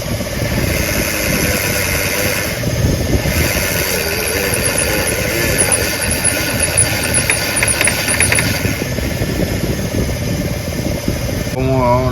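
A pickup truck's power steering whining as the steering wheel is turned, recorded up close with the engine idling underneath: a steady mechanical drone with a high squeal running through most of the clip.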